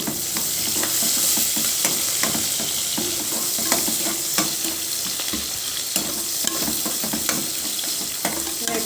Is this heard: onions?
yes